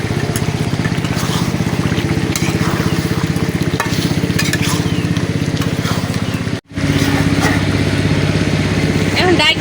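Desi duck meat stir-fried with spices in a pan in a village kitchen: loud, continuous sizzling with rhythmic scraping stirs, a brief break near the end, and a voice talking over it.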